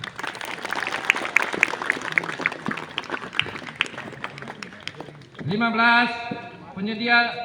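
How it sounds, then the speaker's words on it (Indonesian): A crowd at an outdoor village celebration of Indonesia's 80th Independence Day claps in a dense, steady patter for several seconds, then a voice comes in over loudspeakers near the end. "Tepuk tangan dulu."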